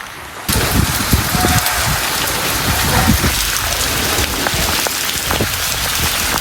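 Heavy monsoon rain pours down on a village in a dense, steady hiss, drops pattering loudly on nearby surfaces without pause.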